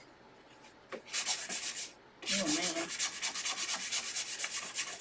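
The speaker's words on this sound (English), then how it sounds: "I think I'm going to use my sanding block a little bit on the bottom of this truck." Scratchy back-and-forth sanding strokes of a sanding block on the bottom of a toy truck, a short burst followed by a longer run of steady rhythmic rubbing, close up; a voice briefly exclaims.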